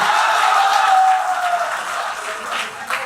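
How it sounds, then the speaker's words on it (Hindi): Audience applause at a Hindi poetry recital, a kavi sammelan, a soft, even rush of clapping from a crowd that gradually eases in volume, with faint voices underneath. "तालियों के साथ एक बार स्वागत कीजिए"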